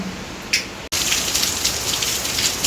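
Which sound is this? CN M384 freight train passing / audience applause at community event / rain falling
rain falling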